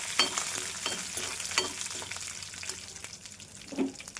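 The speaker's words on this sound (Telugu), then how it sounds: "పోపు ఎగిపోయిందండి." Curry leaves and dry chillies splutter in hot oil as tempering for an Andhra-style ridge gourd curry. Rapid crackles and pops ride over a continuous sizzle, with stirring knocks and a louder burst near the end, heard close and without speech.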